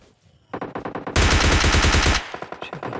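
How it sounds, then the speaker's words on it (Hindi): Gunfire in the battle-royale game PUBG: scattered shots give way to a loud, fast automatic burst lasting about a second, then more rapid shots trail off. "आगे की फायर की आवाज़ आ रही थी"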